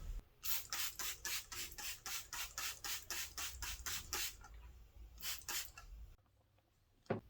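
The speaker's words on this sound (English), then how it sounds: "All you need to do is just rub over the clay bar over the paint." Steady rhythmic rubbing strokes of a clay bar over car paint, a rapid back-and-forth squeaky swish, repeat close up, pausing briefly before a few more strokes and a quiet end.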